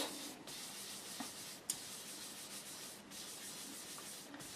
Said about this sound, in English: we're just going to rub some in to the fretboard